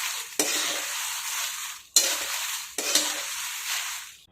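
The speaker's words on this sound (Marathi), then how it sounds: "मिरची सुद्धा 1 मिनिटभर मी परतून घेतलेली आहे" Chillies being roasted in a small amount of oil while making a Maharashtrian black masala, giving a steady close sizzle and frying hiss broken by three sharp stirring scrapes, with no talking.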